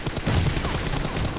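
Rapid automatic gunfire from the mobile battle game BGMI in a domination arena match, a loud, dense burst of shots firing in quick succession with no pauses and no talking.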